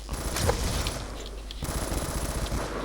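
Rapid automatic gunfire from Call of Duty Black Ops 2 multiplayer play against bots, a dense rattling burst running nearly the whole time with a short lull partway through, loud and close.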